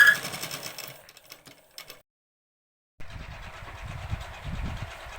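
A sewing machine stitches the back panel of a long frock made from an old saree, a whirring run that stops, falls silent for about a second, then resumes steadily.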